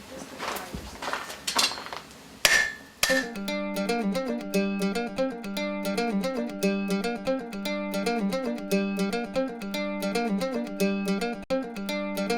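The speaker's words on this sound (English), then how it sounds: "hammer blows will smooth a lot of the hammer marks out of it. That's a process called planishing." Steady, evenly spaced hammer blows planishing hot steel on an anvil while forging a fireplace poker, each strike ringing out in a fast metallic rhythm after a few scattered heavier knocks at the start.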